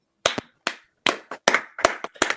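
Roughly eight loud, close hand claps sound alone in quiet, coming in uneven pairs and singles, each sharp crack dying away fast.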